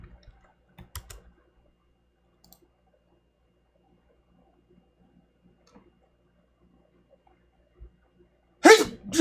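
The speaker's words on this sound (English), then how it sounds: "That was a sneeze." After a long, quiet stretch with only scattered faint clicks and light typing taps, one loud, close sneeze bursts out at the very end.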